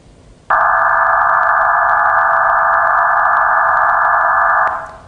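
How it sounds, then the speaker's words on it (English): Digital radio modem tones start abruptly as a loud, steady, dense band of sound with a faint fluttering texture, holding for about four seconds before cutting off. "And this is what the modem tones sound like."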